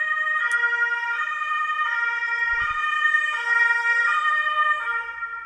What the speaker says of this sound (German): hier fährt jetzt gerade der Krankenwagen vorbei